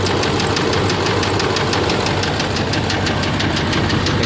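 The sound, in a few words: Duramax LMM diesel engine making a bad knocking noise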